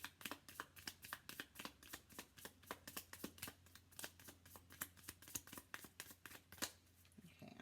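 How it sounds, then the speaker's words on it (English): Cards are shuffled over and over in quick, evenly spaced riffles, a crisp repeated flutter heard up close and fairly quiet. "I'm being asked to shuffle"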